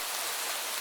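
Steady rain pours down as a dense, even hiss of drops on surfaces, continuous and fairly loud with no other sounds.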